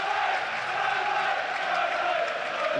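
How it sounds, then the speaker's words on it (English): A football crowd roars and chants at Turf Moor as the teams come out for Burnley v Newcastle in the Premier League, a steady, massed wall of voices filling the whole moment. "Real noise here at Turf Moor."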